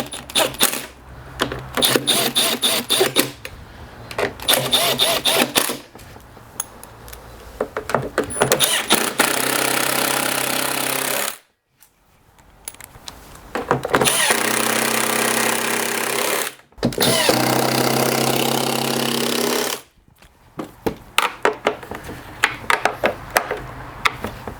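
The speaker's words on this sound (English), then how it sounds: "let's start it up. Hopefully this will have fixed it." A STIHL leaf blower with a revving fault starts and runs in loud bursts, several short cranking attempts giving way to sustained high-pitched engine roars cut by abrupt stops, close to the listener.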